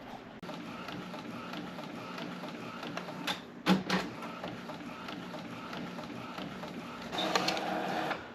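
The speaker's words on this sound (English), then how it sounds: "our image has finished printing, and as you can see, printed very nicely on the paper" A printer prints a design onto 125g sublimation paper with a continuous mechanical whir and faint rhythmic clicks. Two sharp knocks come midway, and a louder carriage pass follows near the end.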